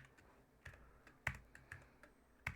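Typing on a HyperX computer keyboard: sparse, quiet key clicks, about half a dozen irregular strokes with a couple of sharper taps, close and isolated against a faint background.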